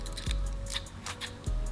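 Scissors snipping the skirt of a fishing jig: two or three quick, close cuts in a quiet space.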